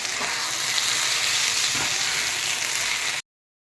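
Eggs frying with spice paste in a pan give a steady, loud sizzle that runs without a break, then stops short near the end. No voices.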